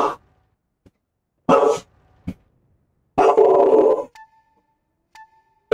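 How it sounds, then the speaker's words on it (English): A dog barking nearby, two loud bursts of barking separated by a single short yip, with brief electronic beeps from a robot combat video game in between. "Dog's barking at some over there."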